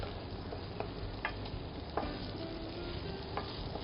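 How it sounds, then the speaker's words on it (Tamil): Fish sizzling in a pan of sauce while being tossed and turned for a Phuket-style restaurant dish, a steady frying hiss with soft stirring clicks and scrapes, fairly faint and without talk. "ஸோ ஃபிஷ்ஷை வந்து இந்த சைடும் அந்த சைடும் போட்டு பரட்டணும்."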